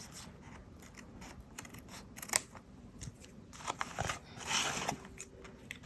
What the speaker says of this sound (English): So I'm going to go ahead and trim it.